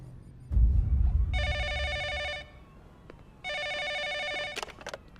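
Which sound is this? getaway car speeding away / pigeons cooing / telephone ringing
telephone ringing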